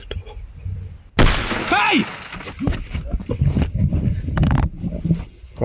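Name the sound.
van passenger side window glass shattering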